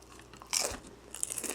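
Crispy takeout food, carried home in paper packaging, is bitten into with a soft, close crunch, followed by a few quieter crackling chews. There is no talking.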